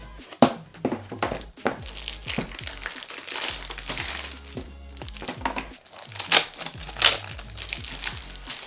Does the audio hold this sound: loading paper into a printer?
yes